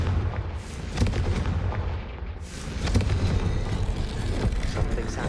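Confringo fire spell blasts in Hogwarts Legacy, several loud booming impacts landing a second or so apart over rumbling game sound, with a voice speaking briefly.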